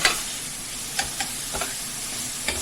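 Onions stirred in a hot pan while they sizzle toward caramelizing, a soft continuous fry broken by a few light spoon clicks and scrapes, close up with no voices.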